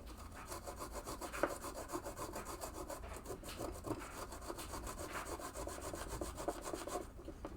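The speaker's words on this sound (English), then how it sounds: "3M scrubby pad. And just go back and forth over them." Rhythmic back-and-forth rasping as a green 3M scrubby pad is rubbed over the buttons and rivets of parts from a 1975 Bally pinball machine, close and steady with regular strokes and no talk.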